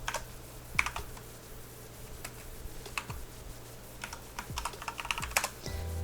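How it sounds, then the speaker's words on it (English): Fingers tapping on a computer keyboard in a quiet room, irregular light clicks in short bursts and scattered single keystrokes, with a brief faster flurry near the end. "Where am I even typing?"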